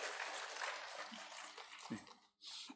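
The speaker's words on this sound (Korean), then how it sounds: "우리 장로님들에게 우리 좀 박수 한번 쳐드릴까요?" A church congregation claps for the elders during a Sunday service, a soft dense patter of hands from a distance that fades, breaks off briefly, then returns.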